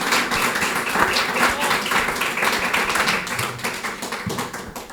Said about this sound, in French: je vous demande d'applaudir bien fort Gentiane